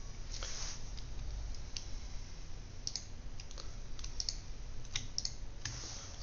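Computer keyboard keys and a mouse button clicking during work in SolidWorks 2020 CAD software, with light scattered clicks and taps recurring irregularly over a steady background hum.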